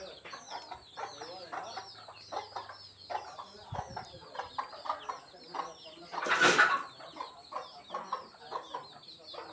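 Native village chickens on a poultry farm cluck and chatter steadily in short repeated calls, with one louder burst of squawking midway through.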